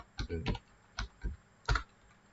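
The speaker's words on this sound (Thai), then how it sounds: "ผมก็จะพิมพ์ลงไปตั้งใหม่นะครับ" A computer keyboard being typed on while setting up a Gmail account, heard as a few close, separate key clacks spread unevenly over two seconds, with no talking.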